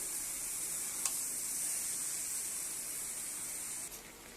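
Fish roe sautéed with vegetables in a pan: a steady, fairly quiet sizzle and hiss, with a brief tap near the start and another toward the end, and no one speaking.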